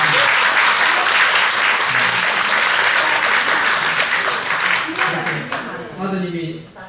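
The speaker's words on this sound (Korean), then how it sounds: "우리 큰 박수 한번" Loud, dense applause from a congregation during a church service, steady clapping for several seconds that fades near the end as a voice resumes speaking.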